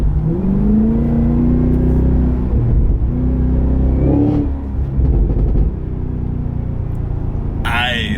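A 2023 Cadillac Escalade-V accelerating hard, its engine note climbing steadily in pitch and staying loud and close throughout, with a brief higher-pitched whine near the end.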